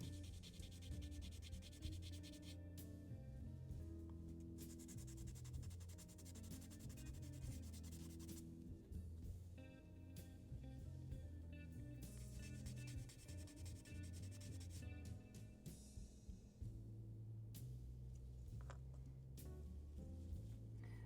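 A plastic part from a Gunpla HG Maganac model kit is scuffed with sandpaper in continuous, rapid rubbing strokes, quiet and close, with short pauses between bursts.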